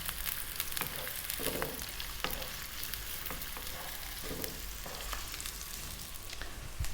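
Onion frying in a pan over medium heat gives a steady close sizzle, punctuated by frequent light spatula taps and scrapes throughout.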